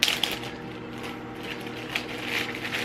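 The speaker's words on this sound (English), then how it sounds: "I'm gonna throw it in a plastic bag." An apple cinnamon rice cake being put into a plastic bag, a close, continuous crinkling and rustling of plastic with a few sharper crackles, with no talking.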